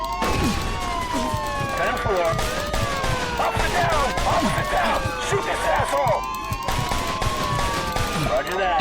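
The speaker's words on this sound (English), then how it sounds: "Dang, I missed all shots." Gunshots in Mafia 2 ring out in quick scattered bursts among wailing police sirens and running footsteps, with a voice talking over the game action.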